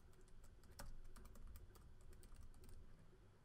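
Fingers type a short burst on a computer keyboard, a quick steady patter of soft key clicks with one sharper tap, quiet and close with no talking.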